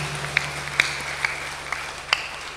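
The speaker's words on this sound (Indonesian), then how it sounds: "Kita berikan tepuk tangan." Scattered, sparse hand claps from a church congregation, a handful of distinct sharp claps spaced irregularly over a low steady background hum.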